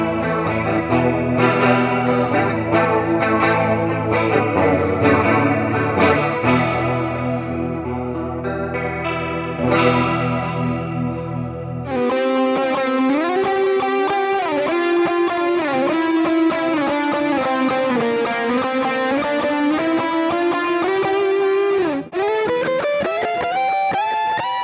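Mooer GTRS intelligent guitar cycling through effect presets, first choppy chorus-laden chords and riffs, then a sustained distorted lead with bends and echo, loud and continuous.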